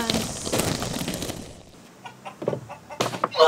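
A chicken clucking in short, scattered bursts at a rural bus stop, starting behind a busy noisy stretch and then coming through more clearly in a few quick calls near the end.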